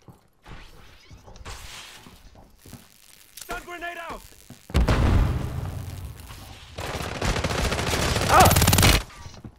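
Rifle gunfire in Call of Duty: Warzone comes as two loud, dense bursts of rapid shots, each lasting a second or more, with players talking between them.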